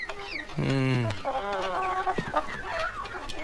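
Chickens cluck and squawk loudly and close by, a burst of agitated fowl calls with some voices mixed in.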